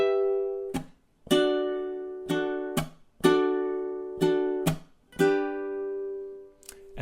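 A ukulele chord melody played on its own, a run of about ten plucked and strummed chords in a steady rhythm, some ringing longer, with brief pauses between phrases.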